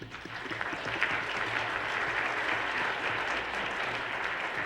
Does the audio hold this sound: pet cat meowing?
no